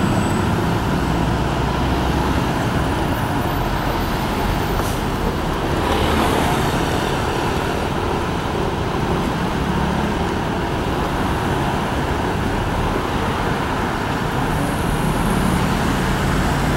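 Dense stop-and-go traffic at the Ishizu-cho intersection on Route 26 in Osaka, a steady broad roar of many cars, buses and trucks idling and creeping, continuous and fairly loud with no talking.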